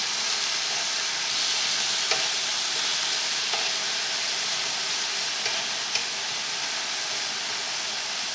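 Korean beef sizzles steadily in a hot pan, a loud continuous frying hiss with a few faint clicks of the meat being turned over.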